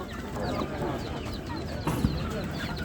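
Chickens and roosters cluck and call at a crowded poultry and bird market in Ganja, with people talking throughout the busy stall noise.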